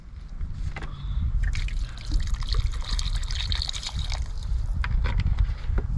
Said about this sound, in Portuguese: Agora eu vou acrescentar mais água aqui